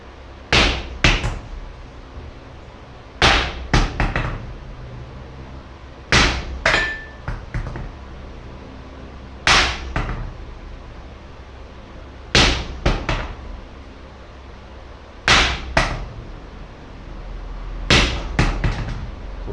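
A hammer swung with a loose whip-style wrist action strikes a hard surface in a steady, repeated rhythm, mostly as sharp double blows. The impacts are loud and close, with only faint background between them.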